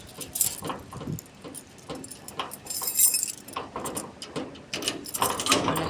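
Keys jangle in a garden setting, a set of large and small keys producing repeated metallic clinks and rattles in irregular bursts, close and fairly loud throughout.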